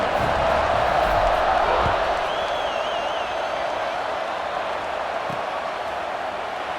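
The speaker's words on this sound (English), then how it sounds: "this crowd is buzzing after that last score" A college football video game's stadium crowd, NC State versus Virginia, keeps up a steady, loud buzz of cheering that eases slightly over time, with faint murmurs of commentary beneath it.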